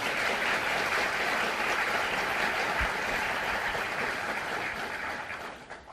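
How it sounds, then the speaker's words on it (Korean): Sustained applause from a large audience at the inauguration of a justice minister, a dense steady roar of clapping filling the room for about six seconds before beginning to fade at the end. "여러분 호응의 박수 한번 해주시기 바랍니다."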